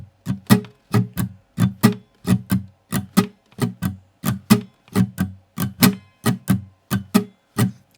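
A shuffle chord rhythm on guitar alternates two lower notes with two higher notes in a steady, lightly swung pulse of short, evenly spaced strums, close and moderately loud with no voices.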